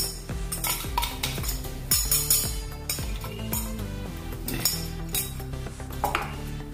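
A metal spoon stirs ground masala into hot oil in a pan for Diwali chivda, with repeated close clinks and scrapes against the pan in an uneven rhythm over a soft sizzle, no talking.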